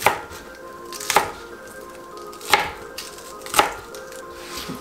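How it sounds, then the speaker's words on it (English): A knife chops green onions on a cutting board, with four sharp, distinct chops at even intervals, close and clear, and no talking. "Mince these and chop these, I guess."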